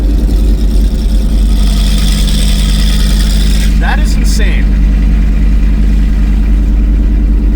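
A Ford Lightning truck with a new loud exhaust idles in a steady, dense drone, with a brief rise partway through as it revs. A person talks over the engine.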